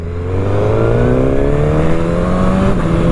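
A Suzuki GSX-S1000 motorcycle with a quick shifter accelerates hard on a twisty road, its engine note climbing steadily in pitch as a loud, close, continuous roar with a brief dip at a shift near the end.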